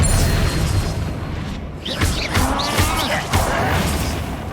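A spell cast in the Hogwarts Legacy video game: a burst of booming, crashing magic effects with sharp swishes over a dense game score, loud throughout.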